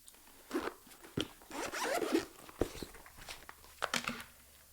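A zipper on a sleek Nintendo Switch 2 carrying case is pulled in several quick rasping runs, close-up, with short pauses and small handling clicks between strokes, no talk.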